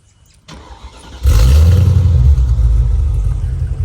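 A Mercedes SL55 AMG with an MBH exhaust, AMG muffler and no resonator revs close by, a low idle rumble jumping into a loud, deep roar that holds and then eases slightly.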